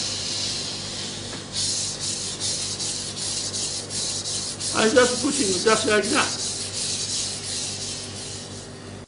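A steady scraping rub of a Global knife blade pushed across a whetstone, with a louder gritty stretch midway, under a brief spoken phrase.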